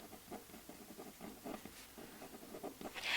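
A pen scratching across paper cash envelopes while labeling them, soft close strokes in a quick irregular rhythm with a faint hiss underneath and no talking.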